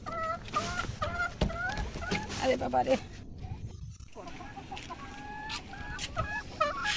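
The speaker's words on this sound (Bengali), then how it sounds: "এই তো মুরগিটা ডিম পারছে" A hen clucks in a farmyard as she lays an egg, her repeated calls coming in short bursts close by, with people talking over and around her.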